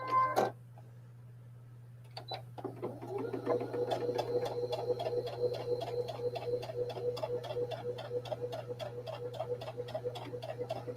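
A sewing machine stitches quilt block seams, starting after a brief clunk and pause, then running in a fast, even, close ticking rhythm over a steady low electrical hum.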